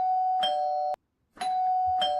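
A doorbell chimes twice in quick succession, a bright ding-dong tone ringing out clearly indoors, then after a short silence it sounds again, with no voices over it.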